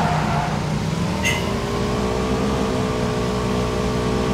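A car in the game PUBG drives close by with a steady engine drone and rising tones, loud and continuous throughout.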